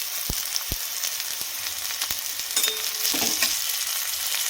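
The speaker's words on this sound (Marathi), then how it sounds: "कांदा घालायचा आणि छान परतून घ्यायचं। कांदा परतून झाला की शिमला मिरची घालायची" Onion and capsicum sauté in a hot pan, giving a steady sizzling hiss punctuated by a few sharp knocks and scrapes of a spoon against the pan.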